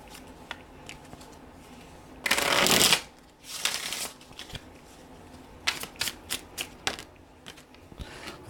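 Tarot cards being shuffled up close: one long riffle burst followed by several shorter bursts and a series of quick, crisp card slaps and taps.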